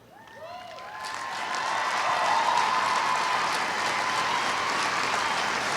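An audience applauds for Chief Frank at a US Air Force basic military training coin and retreat ceremony, steady clapping that builds quickly and holds as a dense, even roar throughout.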